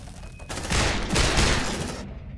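Suppressive gunfire in the sci-fi video game Aliens Dark Descent, a loud sustained burst of rapid automatic fire and overlapping shots lasting about a second and a half, close up, then cut off abruptly.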